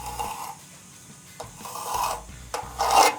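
A knife blade gouging and scraping into a tough material, giving rough rasping scrapes in several bursts, with the last burst the loudest, close by.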